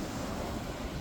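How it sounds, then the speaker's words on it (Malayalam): Sea waves break against the stone wall of a harbour under construction, a steady close wash of surf with wind noise buffeting the microphone throughout. "കടലിങ്ങനെ അടിച്ച് വരുന്നുണ്ട്"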